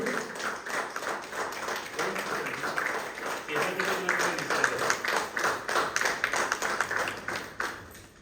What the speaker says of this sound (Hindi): जोरदार तालियों से पुनः एक बार स्वागत और अभिनंदन करेंगे।